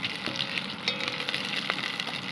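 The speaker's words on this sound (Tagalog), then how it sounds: "Tapos, light prituhin natin ng bahagya yung ating hipon." Shrimp sizzle steadily in a hot pan with ginger, a continuous close crackle of frying with light stirring clicks and no talking.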